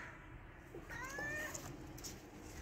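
A cat lets out a drawn-out, wavering meow, moderately close, over steady rainy background noise.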